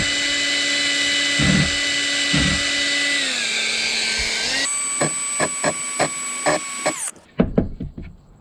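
A power drill with a larger bit countersinks a screw-head recess in a wooden sleeping platform, whining loudly and steadily, changing pitch as it speeds up, and ending with short bursts and clunks.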